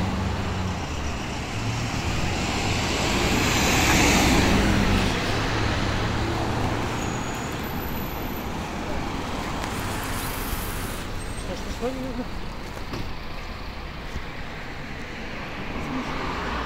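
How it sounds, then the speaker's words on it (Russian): City street traffic near a square in Sevastopol, with minibuses, buses and trolleybuses passing, forms a steady loud roar of engines and tyres, swelling slightly early on and continuing throughout. "Маршрутки, автобусы, троллейбусы."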